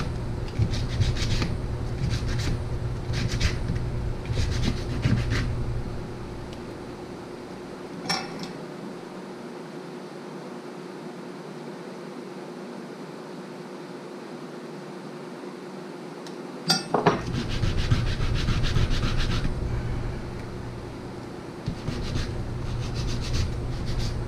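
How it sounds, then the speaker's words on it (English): Rhythmic scraping strokes of a straight sanding block rubbing burrs off a plastic brake booster spacer, in bursts separated by a quiet pause, close and clear. "The sanding block's good to knock off all these burrs and stuff and clean it up."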